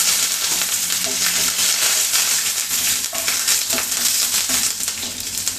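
Mustard seeds, fenugreek, dried red chilies and curry leaves sizzle loudly in hot oil for a tempering, a dense steady hiss with scattered pops and crackles, close and continuous.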